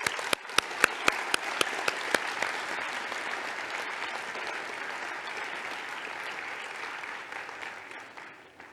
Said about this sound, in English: I'd like to give you a huge thank you, Burkhart, and a round of applause